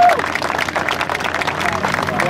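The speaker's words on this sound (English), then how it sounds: "One more big round of applause for our buddy" A crowd at the Joe Nall 2014 model aircraft event gives a round of applause for pilot Mack Hodges, steady clapping mixed with outdoor crowd hubbub and voices.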